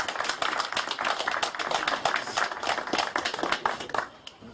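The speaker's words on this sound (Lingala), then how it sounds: "Soki toko yambe, s'il vous plaît, avec beaucoup d'applaudissements." A crowd at a veterans' gathering applauds President Okito, with steady dense clapping from many hands that fades out near the end, fairly distant and not loud.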